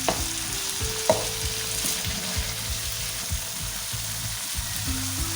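Kabab karahi masala fries steadily in a pan, a continuous close sizzle with soft stirring scrapes and one sharp clink near the start, no voices.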